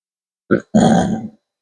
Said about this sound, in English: I don't mean to be burping so much.